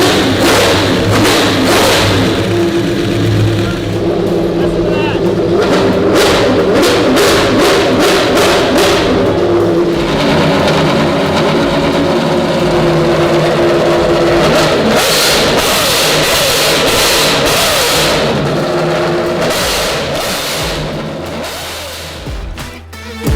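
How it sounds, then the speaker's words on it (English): A Mark V Supra fitted with a Judd racing engine revs hard on a dyno in Gardena, California, its loud, close engine note rising and falling through repeated throttle blips and sustained high-rev pulls before settling back down. "We got the Mark V Supra, Judd motor, warming up"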